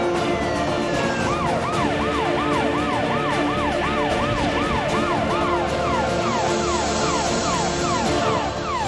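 An ambulance siren wails continuously in fast rising-and-falling sweeps, loud and close, over busy road traffic noise for the whole stretch.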